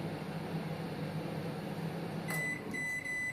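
An IFB 20BC4 microwave oven hums steadily at low level, then a short sharp beep sounds, followed by another tone as the appliance keeps droning.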